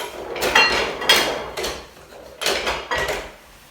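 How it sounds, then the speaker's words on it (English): A plastic pouring guard is fitted onto a Kenwood Major Premier KMM770 stand mixer bowl, making a series of sharp plastic clicks and knocks in close succession, close up and fairly quiet with no speech. "just make sure that it clicks and it attached correctly so that it doesn't fall down when you start using your stud mixture"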